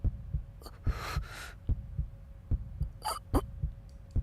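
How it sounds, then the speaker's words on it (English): Heartbeat in a visual novel game, a slow, steady thumping pulse in regular double beats, close and prominent, with brief breathy bursts between some beats. "All I could hear was the sound of my own heartbeat."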